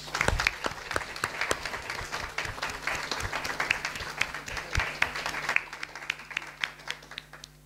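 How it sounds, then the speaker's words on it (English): A church congregation at a Sunday service applauds steadily, many hands clapping in a dense, sustained patter that holds without pause. "let's just give little Lola a, a round of applause."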